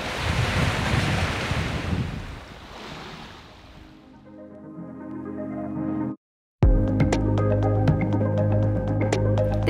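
Waves and strong wind noise rush over a sailboat at sea, off the coast on a passage to St. Augustine. They fade into a steady low hum, cut out briefly, then return under a busy layer of close rattles and clicks.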